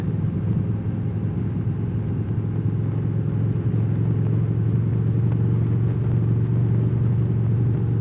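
Steady low diesel rumble from a septic truck, heard close from a vehicle following behind it, a constant droning engine and road noise with no break for the full stretch.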